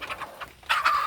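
A large young rooster gives several short, close clucking calls in quick bursts, the last one louder and longer.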